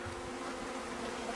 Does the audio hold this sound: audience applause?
no